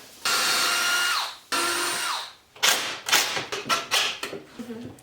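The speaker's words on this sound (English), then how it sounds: "Now we're going to drill in the bottom and put 2 screws in it." A power drill whirs in two sustained bursts, winding down as screws seat into a 2x4 wooden mirror frame, followed by a run of sharp knocks and taps nearby.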